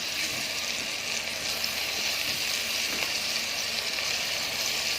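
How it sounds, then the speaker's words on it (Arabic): Onion fries in hot ghee (samna) with a steady, bright sizzle and crackle, continuous and close, with no voices. "هنا نزلنا بالبصلاية في السمنة"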